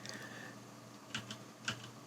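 Keys and buttons on a Resolve Speed Editor editing controller are pressed, giving a few sharp separate clicks at close range over faint background hum.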